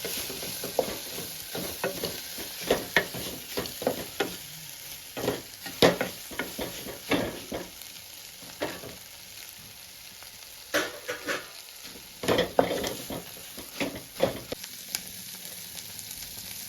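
A pan of bamboo shoot curry is stirred and mixed, with close scraping and clattering spoon strokes in irregular bursts over a steady sizzle, continuing for a long stretch with no talk.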